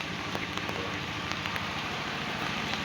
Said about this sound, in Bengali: বৃষ্টি নামবো আবারও। এখন তো হালকা ঘুরি ঘুরি হইতাছে।